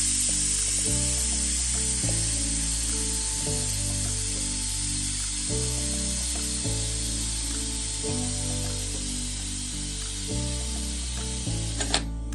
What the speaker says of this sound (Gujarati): કુકરની હવા પૂરશું